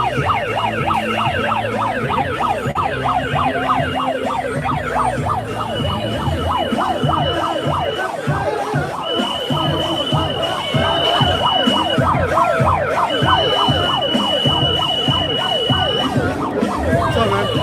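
Several emergency sirens wail and yelp together outside the courthouse in Washington, DC, loud and unbroken, while long horn-like blasts sound at intervals.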